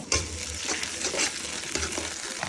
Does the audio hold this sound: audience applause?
no